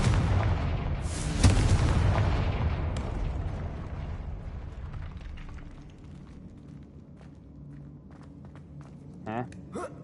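A Confringo fire spell blasts in Hogwarts Legacy, a loud explosive burst near the start that rolls into a rumbling tail. Faint game sounds and footsteps continue after it, with light chatter underneath.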